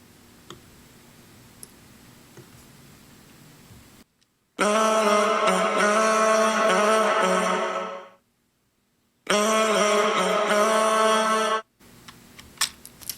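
A sustained reverberant vocal tone with rich harmonics and a shortened reverb tail cuts off sharply after a few seconds, a silence, then another held passage that also stops abruptly.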